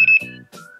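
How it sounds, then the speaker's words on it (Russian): A FOX Mr+ or MXr+ electronic fishing bite alarm sounds a brief high-pitched electronic beep, close and clear, then falls quiet before a second fainter tone. "Так, первый звук, это самый такой пищащий."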